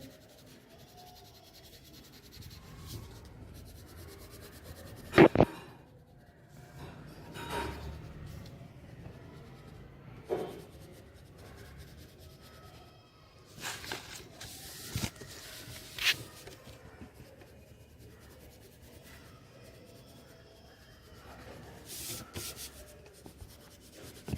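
Crayons or pencils rub and scratch across paper as children colour a picture at a church Bible class, with soft intermittent strokes, a few louder bumps and quiet room noise.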